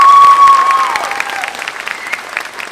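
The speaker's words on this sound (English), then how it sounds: "So maybe a round of applause to those athletes." High school graduation audience clapping for athletes, a loud burst of applause that gradually thins out, with a faint tone and crowd noise underneath.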